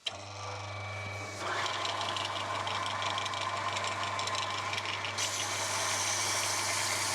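A power sander rounds over the edge of a wooden drilling jig, starting with a soft hum and then a louder, rattling motor whine that holds steady and gets a bit brighter toward the end.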